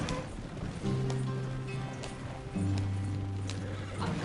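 Video-game horses gallop while pulling a wagon, a steady rapid hoof patter in the background, overlaid by sustained tonal game sounds.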